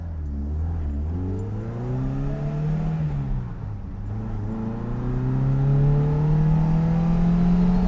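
An 02 series car launches from a standstill, its engine revving steadily upward through the gears, the pitch climbing, dropping at a shift, then rising again, loud and close.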